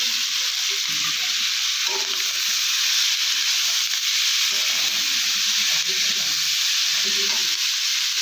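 Crushed chilli and onion hit a hot pan of spiced oil while cooking fish roe with jackfruit seeds, giving a steady, loud, even sizzle with faint stirring scrapes and no talk.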